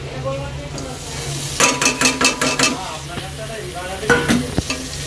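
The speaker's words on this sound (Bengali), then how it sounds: "ওইদিকে আমার পেঁয়াজটা ভাজা হয়ে গেছে, এবার এগুলো সব দিয়ে দিলাম" Fried onions are stirred with other ingredients for mixed fried rice, a steady sizzle punctuated by a quick series of sharp spatula scrapes and knocks against the pan, with a voice faintly behind.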